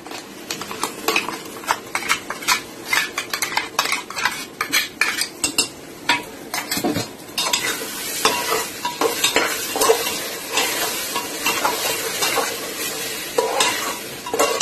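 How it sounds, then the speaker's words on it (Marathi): Ground masala paste for a spicy village-chicken curry frying in oil in a pan, stirred continuously with a metal spoon that scrapes and clinks against the pan, over a steady close sizzle. "आता ह्या मसाल्याला चांगलं तेल सुटेपर्यंत चांगलं परतवायचं आहे"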